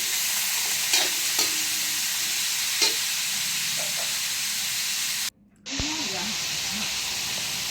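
Pork ribs sautéing in a pan until golden brown for caldirita, a constant loud sizzle with a few faint clinks of stirring, then a brief cutout and a short, muffled noise.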